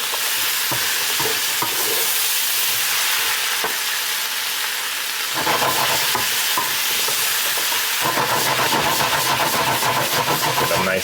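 Garlic and onions fry in a pan for a sirloin steak dish, a loud continuous sizzle broken by scraping, clattering stirring strokes that grow busier toward the end, with no speech.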